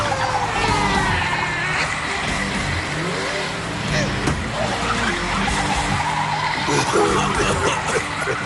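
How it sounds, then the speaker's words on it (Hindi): A cartoon car driven by a monkey skids with squealing tires and a revving engine, loud and continuous throughout, with voices and busy cartoon sound effects layered over it. "हाँ, बंदर गाड़ी चला रहा है।"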